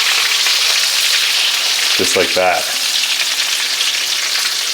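Lamb chops pan frying in hot grease, a loud, steady crackling sizzle throughout, with someone speaking briefly over it.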